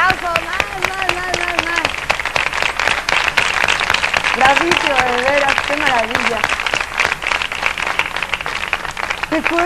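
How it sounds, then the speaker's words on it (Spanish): Enthusiastic audience applause and clapping fills an evening stage show throughout, steady and dense, while someone speaks over it in Spanish. "Más aplausos,"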